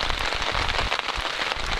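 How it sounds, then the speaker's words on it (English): Heavy rain falls outside a tent in Algonquin, a dense, continuous patter of drops drumming close on the fabric. "It's really raining out there right now."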